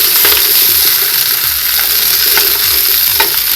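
Celery and onion hit hot fat in a stock pot and sizzle loudly and close. The sizzle is a constant crackle with a few low knocks of stirring underneath.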